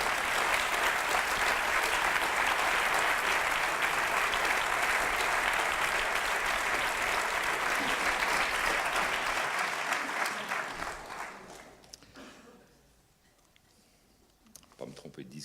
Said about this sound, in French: syndic Jean-Daniel Carrard sous un tonnerre d'applaudissements, une émeute si possible.